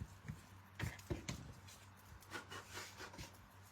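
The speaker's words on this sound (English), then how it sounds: "I'm just going to take those pencil marks off." A rubber eraser scrubs pencil marks off paper in a few quick, scratchy bursts of friction, close but faint and separated by short pauses, with no speech.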